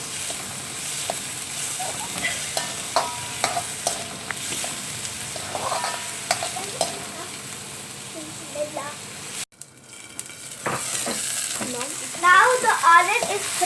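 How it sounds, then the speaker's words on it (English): Onion frying in a pan with oil, a steady sizzle broken by the scrape and clatter of a spoon stirring, with a short dip partway through before the sizzling resumes louder, alongside a person speaking. "Fry it till it becomes golden brown."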